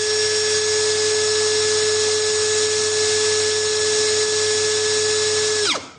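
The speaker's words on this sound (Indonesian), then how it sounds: "Berikutnya kita tes RPM nih di kecepatan 1." A Corolla 16V brushless drill driver runs steadily at its first speed setting, a loud, constant high-pitched whine with a stable tone, then spins down abruptly in the final half second.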